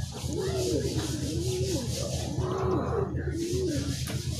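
Pigeons coo close by in repeated rising and falling phrases over a steady low hum, in a pigeon racing club release at Sariaya.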